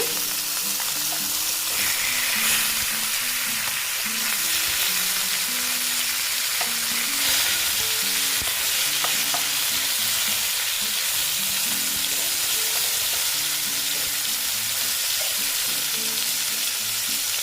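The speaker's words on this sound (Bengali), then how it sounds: "আমার মাছ ভাজাটা হয়ে গেছে এবার আমি মাছ মাছগুলোকে তুলে নেব" Loud, constant sizzling of rohu fish frying in hot oil, a crackling hiss with occasional pops, close up and steady throughout.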